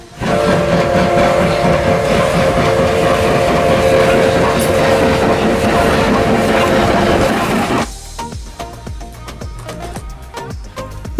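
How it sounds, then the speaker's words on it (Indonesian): A Thomas toy train runs with loud, steady rail-like rumbling and rhythmic clickety-clack, then drops to a lighter mechanical clatter near the end. "kalau ini kereta api Thomas"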